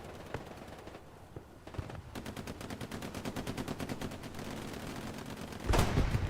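Rapid machine gun bursts in the World War II shooter Hell Let Loose, a fast regular rattle of shots that builds after a quieter start and ends in a louder blast.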